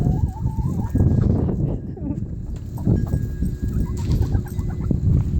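Chickens cluck and chirp close by amid rustling and shuffling, with a person talking over them.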